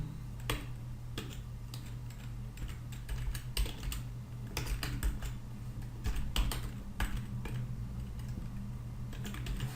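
Code is typed on a computer keyboard at close range. Irregular bursts of sharp key clicks and taps come in quick runs, separated by short pauses, with no talking.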